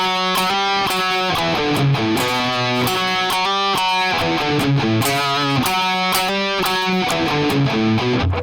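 Heavily distorted electric guitar plays the upper harmony line of a song's outro, a steady stream of loud, sustained, compressed notes moving in a continuous melodic pattern with no pauses and no talking.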